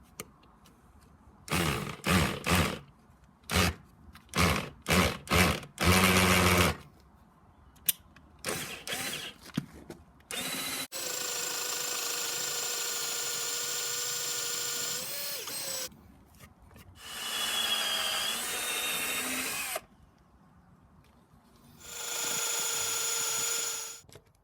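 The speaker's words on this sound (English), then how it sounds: "so let's get to drilling and just hope that this works." Power drill boring holes to mount an anvil, first a run of short stuttering bursts, then several long sustained whining drill runs separated by silences, loud and close with no talk.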